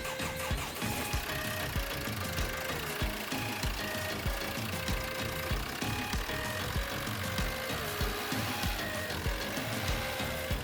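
A car engine, just repaired for a bad injector seal, cranks and starts, then runs at a steady idle close by, a busy mechanical rumble with a light knocking clatter throughout.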